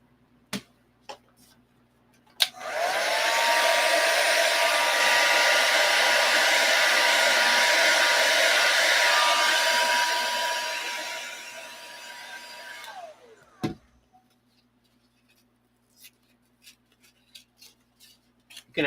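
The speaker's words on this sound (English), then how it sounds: "You can actually soften the glue with a hair dryer" A hair dryer switches on with a click and blows steadily at close range for about ten seconds, then cuts off, followed by small handling taps.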